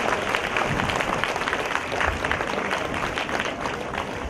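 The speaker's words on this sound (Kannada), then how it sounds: "ಅವ್ರಿಗೆ ಇಲ್ಲೇ ಕುಂತಲ್ಲಿನೂ ಒಮ್ಮೆ ಚಪ್ಪಾಳೆಯನ್ನು ತಟ್ಟಿ" An audience at a religious discourse gathering claps together to welcome the seers onto the stage, a dense, sustained wash of applause from a seated crowd throughout.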